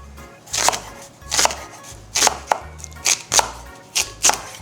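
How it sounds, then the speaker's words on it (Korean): Knife chopping a daikon radish into 3 cm pieces on a cutting board, seven crisp, evenly spaced thuds close up with no talk. "우선 첫 번째로 무를 3cm 정도 간격으로 잘라서 준비해 주세요."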